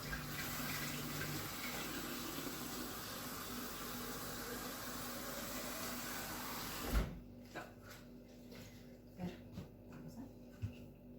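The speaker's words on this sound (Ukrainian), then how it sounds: "Напускаю водички і поставлю" Water running from a kitchen tap into a vessel, a steady close hiss that stops abruptly partway through, followed by a few soft clunks and knocks.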